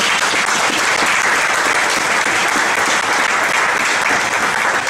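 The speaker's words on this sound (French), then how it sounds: "Est-ce qu'on peut acclamer la parole de Dieu?" Church congregation applauding at a French-language sermon, a dense, even wash of many hands clapping at once, loud and steady for the full five seconds, with faint voices mixed in.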